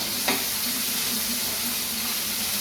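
Onion sautéing in a pan for a spicy potato curry, giving a steady, moderate sizzle with one brief clack near the start and no talking.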